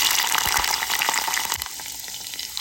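Three mild green chillies frying in a mustard seed tempering, a loud close hiss and crackle that fills the pan, easing slightly toward the end.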